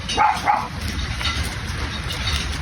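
A newborn puppy barks in two quick yips near the start, then lets out soft whimpers and whines that continue over steady outdoor background noise.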